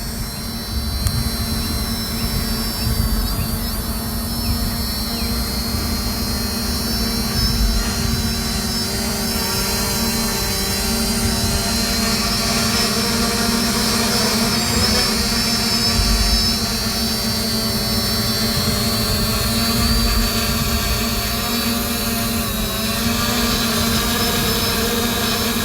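Small multirotor drone carried piggyback on an X8 SE drone while flying in wind, a steady high whirring buzz of propellers with a constant hum, loud and close throughout with slight wavering.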